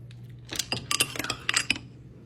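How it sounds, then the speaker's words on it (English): Ice cubes mixed into a Korean fruit punch with fruit and soda, clinking and rattling against a glass or bowl in quick irregular bursts, close and bright over a faint low hum. "add our ice. Mix it all up."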